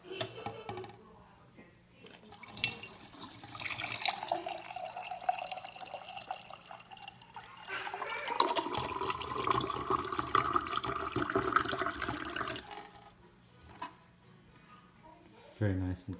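Water runs from the faucet of an iSpring 6-stage under-sink reverse osmosis alkaline system, a steady close splashing stream that swells in the middle, with someone talking over and around it.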